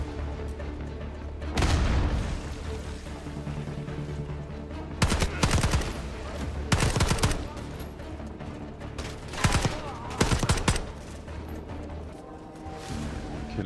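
Sharp bursts of video game gunfire in Call of Duty: Black Ops 6 crack out in short clusters over a low, steady background hum, with quiet gaps between volleys.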